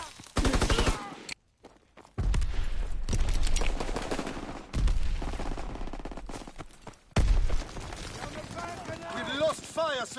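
Gunfire in the World War II shooter Call of Duty WW2, with repeated bursts of shots and heavy impacts between stretches of voiced game dialogue and radio chatter.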